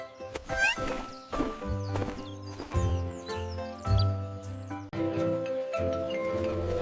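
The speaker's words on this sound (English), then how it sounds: "This is a horse. The horse can run." A horse whinnies and its hooves clip-clop in uneven bursts, fairly quiet and mixed with steady musical tones in the background.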